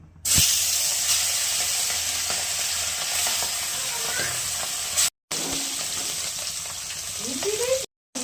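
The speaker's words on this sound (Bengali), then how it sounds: "বড়িগুলো আর মাছগুলো ভেজে নেবো" Lentil dumplings (bori) and fish frying in hot oil, a steady, close bubbling sizzle with a hissing texture. It is broken by two brief silent gaps and a few faint clinks and stirring sounds.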